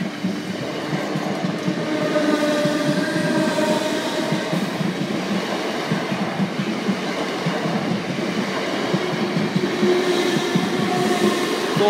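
A Class 455 electric commuter train rolls past a level crossing at North Sheen station in London, a steady loud rumble of wheels and carriages with rhythmic clatter sustained throughout, close by and without talk.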